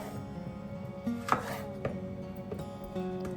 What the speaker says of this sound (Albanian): Në të njëjtën mënyrë do të bëjmë dhe me kungull, do ta presim.